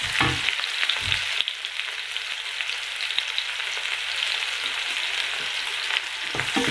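Long-cut onions sautéing in oil in a pan for rava upma sizzle steadily up close, with a few stirring knocks and scrapes early on and no voices.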